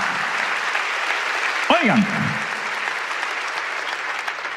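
Congregation in a church service applauding steadily, a dense continuous wash of clapping from a crowd, with a brief shouted word from a man cutting through partway.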